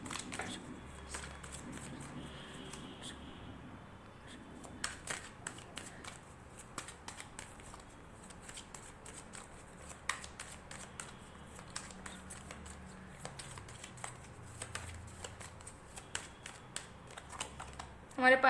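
Tarot cards are shuffled by hand in soft, papery riffles and light clicks, faint and close, while someone talks over them.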